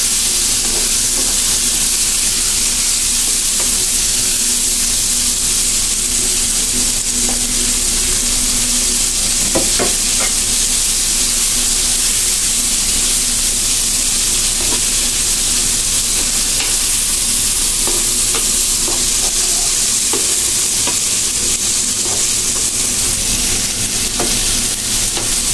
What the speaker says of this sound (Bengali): পেঁয়াজটা এরকম করে আপনারা ভেজে নেবেন